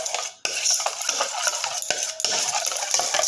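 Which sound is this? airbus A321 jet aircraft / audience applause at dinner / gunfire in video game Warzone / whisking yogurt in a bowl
whisking yogurt in a bowl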